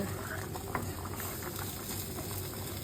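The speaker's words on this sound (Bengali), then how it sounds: "এই যে আলু দিয়ে ঝোল হচ্ছে" A potato curry for fish-head jhol bubbles in a pot, a steady close simmer of small popping bubbles throughout.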